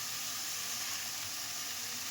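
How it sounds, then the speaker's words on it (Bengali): Lote shak greens hiss and sizzle steadily in a hot pan, a continuous bright frying crackle at moderate level with no voices. "ঠিক এই পর্যায়ে আমি শাকটা দিয়ে দিচ্ছি।"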